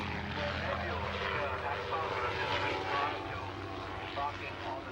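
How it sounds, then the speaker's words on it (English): Steady engine drone of a training aeroplane, a loud, sustained propeller-like roar holding level throughout without pause. "That is a training aeroplane."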